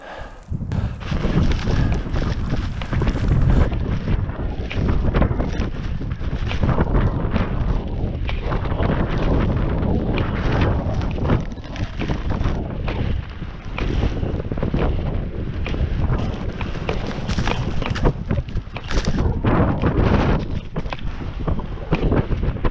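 Strong mountain wind near Andrews Glacier and Otis Peak in February buffets the microphone in loud, continuous gusts, rumbling and roaring with no voices.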